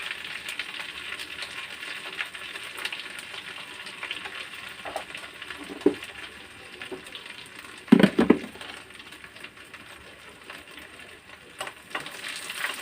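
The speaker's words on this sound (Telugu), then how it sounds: "ఇలాగా బాగా వేగిన తర్వాత హైలోనే వేపుకున్నాను రొయ్యలు" Dried prawns fry in a pan with a pinch of turmeric, a soft sizzle running under occasional utensil taps and a cluster of sharper metallic clatters partway through, with no talk.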